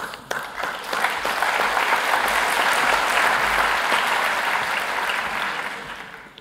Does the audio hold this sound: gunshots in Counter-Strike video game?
no